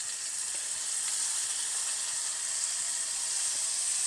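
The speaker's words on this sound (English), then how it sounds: "I'm going to drop them in a few at a time so they're not crowded." Thin flour-coated onions frying in hot oil, a few at a time, give a steady, close, even hiss and sizzle with faint crackles that never stops.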